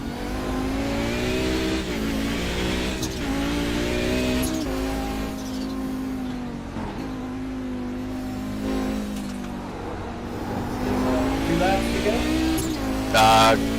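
Audi 90 GTO race car in a racing video game at Sears Point, its engine holding a steady high drone with repeated revving rises and dips across the lap, loud and continuous.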